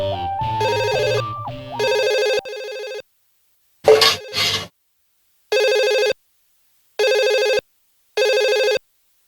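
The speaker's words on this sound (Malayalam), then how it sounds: "ഫോണിന്റെ ബെല്ലടി കേട്ടാ ഞാൻ എണീറ്റ" An indoor telephone rings in bursts: a short melodic ringtone comes first, then several evenly spaced, loud electronic rings separated by silent gaps. No voices are heard.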